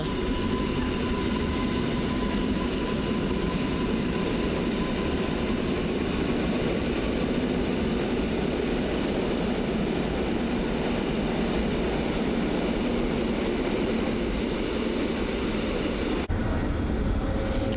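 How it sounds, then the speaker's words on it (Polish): An EN57 AKM suburban electric train runs along the tracks near Warszawa Ochota station, giving a loud, continuous rolling rumble with a faint steady whine. The sound holds for about sixteen seconds and then abruptly drops away. "A po torach podmiejskich jedzie EN57 AKM"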